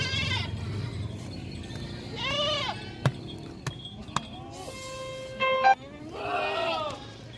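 Goats at a livestock market bleat in several separate wavering calls, near and fairly loud. Brief knocks come between the calls, and a voice is heard at times.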